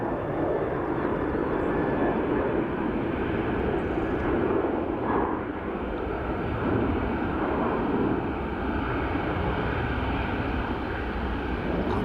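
Aircraft rolling down the runway at Dublin Airport, a steady, loud broadband engine roar that holds constant for the whole stretch with no break.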